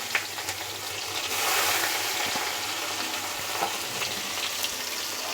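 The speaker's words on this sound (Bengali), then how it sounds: "আর দিয়ে দেবো আমি কিছু পেঁয়াজ কোচানো।" Sliced onions frying in oil with bay leaves, whole cardamom and cinnamon, a steady close sizzle that swells briefly and then holds even, with faint stirring ticks.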